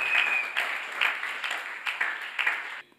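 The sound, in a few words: church congregation applauding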